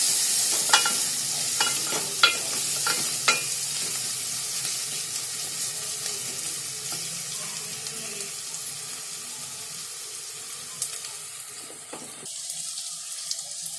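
Onion, ginger and garlic paste frying in oil in a pan for a crab thali, a steady close sizzle with a few sharp clinks and stirring knocks early on, then quieter bubbling toward the end.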